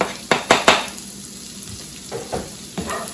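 Finely chopped fresh garlic, eight cloves, drops into a hot pan for Indian Chinese general tso chicken with three sharp sizzling bursts. A quieter steady fry follows, with a few softer stirring scrapes.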